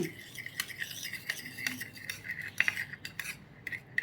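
A spoon stirs hair dye powder mixed with oil into a paste in a bowl, making soft, steady scraping and light clinking strokes that stay close and quiet.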